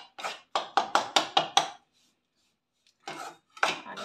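A spoon scrapes and taps against a pan in quick regular strokes as gram flour (besan) is roasted in ghee for besan ladoo, followed by a pause and a few more softer strokes, close and clear.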